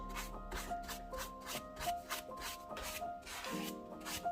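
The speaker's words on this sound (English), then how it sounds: "we go and we buffer with a clean big brush" A big clean brush is buffed back and forth across an old dining table, making steady rhythmic rubbing strokes, close and moderately loud, repeating about twice per second.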